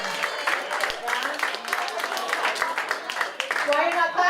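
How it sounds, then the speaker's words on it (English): An audience in a talk hall claps in response to a speaker, a loose, moderate patter of hands running throughout with voices and crowd murmur mixed in. "Clap if you're aging."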